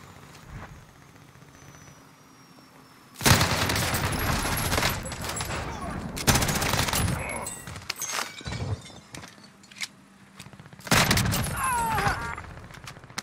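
Call of Duty: Warzone firefight: after a quiet lead-in with faint distant shots, bursts of loud automatic gunfire erupt in several clusters, with sharp pops, metallic clinks and brief lulls between volleys.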